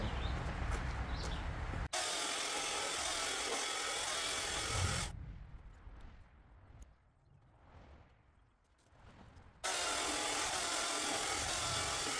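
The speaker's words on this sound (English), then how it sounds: "back up to full speed on the saw and just go a little easier on it" Ego CSX5000 battery chainsaw with a 24-inch bar cutting wood at full speed, a loud continuous whine that drops and softens midway as the load changes, then surges back to full power.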